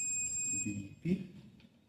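A multimeter on continuity test gives a steady high beep while probing a water purifier thermostat, the tone held and then cutting off, with someone speaking briefly over it.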